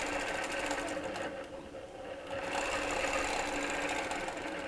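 A sewing machine stitches quilt fabric along a ruler and chalk line in a steady, continuous whir, dipping briefly mid-clip before running on at full speed, close and alone.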